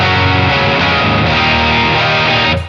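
Electric guitar played through a Bogner distortion pedal, with a Joyo amp feeding a Deluxe 112 cabinet, giving a short, loud, sustained and heavily distorted chord that rings out before cutting off.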